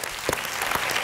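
Studio audience applause on a Spanish TV show welcoming a team member: a short burst of continuous clapping from a crowd, fairly even and moderately loud, with a few faint voices mixed in.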